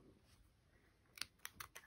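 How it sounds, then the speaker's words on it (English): Scissors snip through fabric in a handful of quick, crisp clicks near the end, close and fairly faint after a quiet lead-in. "I'm going to give it a little snip with some scissors."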